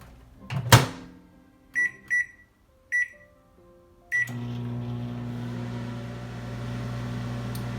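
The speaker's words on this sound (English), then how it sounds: "Put it in the microwave for about 1 minute 10 seconds." A microwave door thumps shut, a few keypad beeps sound, then the oven starts with a steady low hum that continues.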